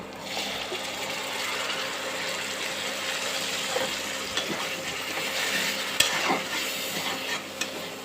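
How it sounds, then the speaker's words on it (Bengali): Ground salt, turmeric, cumin and chili powder are stirred with a little water in a pan while making a dark chicken bhuna, giving a steady, close scraping and soft sizzle with a few sharper clicks of the spoon. "সামান্য পানি দিয়ে মিশিয়ে দিব"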